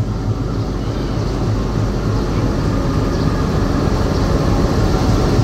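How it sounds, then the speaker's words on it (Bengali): A 6500-series diesel-electric locomotive, number 6525, idles with a loud, steady low engine drone and broadband rumble that stays even from start to finish. "এই হলো আজকে আমাদের লোকোমোটিভ 6500 সিরিজের লোকোমোটিভ, যেটা ডিজেল ইলেকট্রিক লোকোমোটিভ।"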